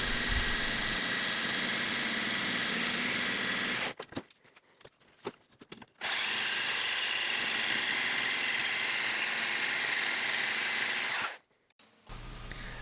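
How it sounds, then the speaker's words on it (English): Metal lathe on its fastest setting turning a Bolivian rosewood blank for a fly reel handle with metal cutting bits, a loud continuous motor drone that cuts out for about two seconds, resumes, then stops again near the end. "a metal lathe running on its fastest setting will generally cut wood just fine, even if you're using the metal cutting bits"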